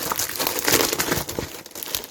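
Paper crinkling and rustling as a sheet from a craft parcel is unfolded and handled, a steady close-up crackle with a louder burst in the middle and softer crinkles after.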